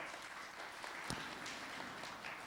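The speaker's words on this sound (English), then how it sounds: "A big round of applause for Dr." An audience at a World Heart Day hospital event gives steady applause for a cardiologist, a continuous, fairly faint patter of many hands with one sharper clap standing out midway.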